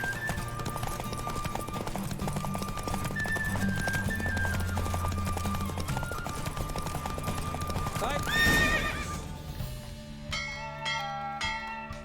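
Rapid clip-clop of a galloping horse in The Witcher 3 video game, with the horse neighing, over game music and chiming bells, ending in a bright musical flourish.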